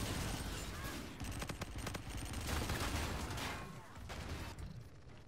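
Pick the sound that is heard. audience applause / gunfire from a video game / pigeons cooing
gunfire from a video game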